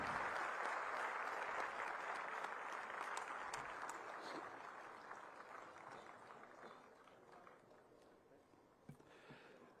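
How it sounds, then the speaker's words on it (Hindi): Applause from an audience at a government launch ceremony, heard faintly and at a distance, with a broad wash of clapping that slowly fades over the clip. "तो अब आपकी तालियों की आवाज, उसकी गूंज आनी चाहिए देवियों सज्जनों।"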